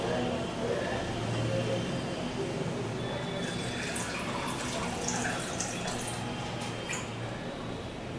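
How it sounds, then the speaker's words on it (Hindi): Water poured onto sugar in a pan to make syrup for peanut barfi, a steady soft splashing stream running through the whole stretch at close range. "जितनी हमारे पास चीनी है उतना ही हम पानी डाल देंगे।"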